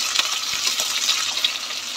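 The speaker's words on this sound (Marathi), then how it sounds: "हा कांदा आपण आता फ्राय करून घेऊया" Sliced onions fry in a spoonful of hot oil as part of a chicken biryani, giving a steady, close hiss and crackle that does not let up.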